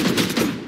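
A single loud gunshot from a gun in the tactical shooter Valorant, a dense, full-bodied blast that rings out and fades quickly.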